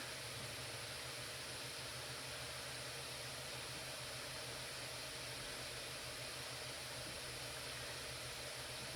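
Cooling fans of an MSI GS66 Stealth gaming laptop running under heavy load, a steady broadband whoosh of air that holds constant from start to finish with no voices over it.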